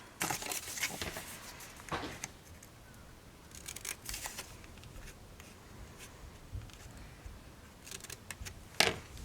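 Scissors cut paper for a mini album, heard as quiet, close snips and rustling paper in scattered bursts with one sharper crunch near the end, with no talking.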